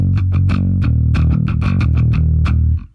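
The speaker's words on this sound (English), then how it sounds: "if I play it without palm muting, there's nothing sneaky or dangerous about that" Grunge bass line in a 1992 style, played open without palm muting through mild drive and chorus effects, with a steady run of ringing, sustained notes and sharp plucked attacks that stops just before the end.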